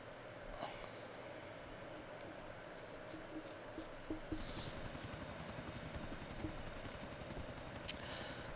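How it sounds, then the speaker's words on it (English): A helicopter in the GTA IV video game drones with a steady, quiet rotor thump and engine hum, which grows denser partway through and continues without talk. "we went off to Higgins and got a helicopter"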